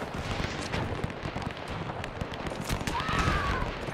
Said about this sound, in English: Let's not ride into our own machine gun fire here.